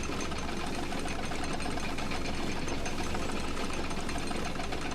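The Bucket Destroyer machine in The Stanley Parable Ultra Deluxe runs with a steady, close mechanical whir and rapid rattling chug, constant and unbroken, with no voices over it.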